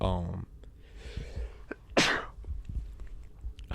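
A voice imitates a sneeze with one sharp burst, surrounded by talking and a short laugh-like sound at the start.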